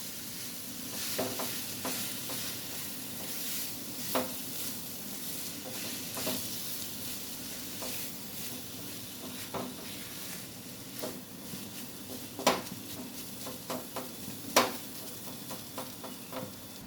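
Grated vegetables for a vegetable chop are mixed by hand in a bowl, giving soft, irregular stirring and squishing sounds with occasional sharper clicks against the bowl, close and quiet, with no talking.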